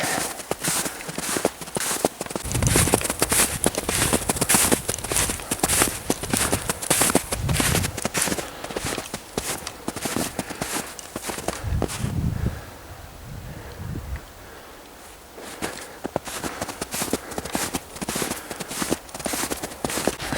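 Rhythmic hoof clops of horses moving over ground, steady and fairly close, with wind buffeting the microphone and rustling throughout, a brief lull near the end.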